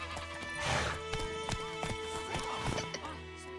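Geralt's horse Roach in The Witcher 3 clops along at a slow walk, steady hoofbeats close and fairly faint, with a brief snort or whinny early on and no talk.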